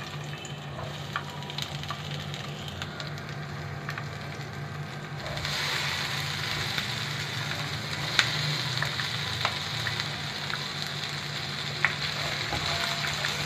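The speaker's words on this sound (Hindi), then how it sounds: "अब हम इसमें अपनी सब्जियां फ्राई करेंगे।" Vegetables hit hot cooking oil in a pan for a chicken jalfrezi, setting off a steady sizzle that grows louder partway through, with occasional sharp spatters and taps and no talking.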